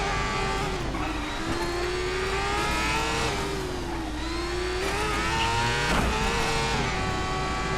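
Several race car engines idle and rev together in a GRID open-wheel destruction derby, a steady loud drone with shifting pitch and a brief sharper burst near the end.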